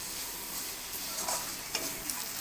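Spices frying in hot oil for doi chingri, a sweet yogurt prawn curry, a steady dense sizzle with a few light stirring scrapes, close and continuous.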